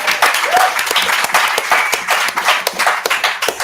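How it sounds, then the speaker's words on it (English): A room full of people at a political talk on streets and speed limits breaks into applause, with brisk, crisp clapping close by that rises quickly and holds steady for a few seconds, no voices over it. "it's nice to be in a room where people applaud"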